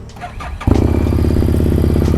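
A Harley Davidson motorcycle engine starts up for a warm-up, a brief crank and catch followed by a loud, close, steady lumpy idle with rhythmic pulsing.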